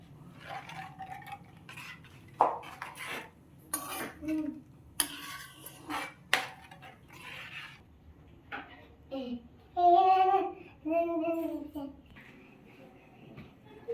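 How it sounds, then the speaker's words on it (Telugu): Maggi noodles being mixed with masala in a pan, intermittent scraping and clinks of a utensil against metal, with people talking over it. "అలా మసాలా వేసేసుకుని బాగా మిక్స్ చేసుకోవాలి."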